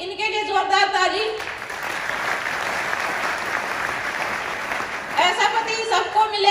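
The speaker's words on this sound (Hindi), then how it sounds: "इन्होंने बहुत मेहनत की, तो मैं चाहूंगी इनके लिए जोरदार ताली।" An audience breaks into loud, sustained applause that fills the middle of the clip, with someone speaking just before it and again as the clapping fades.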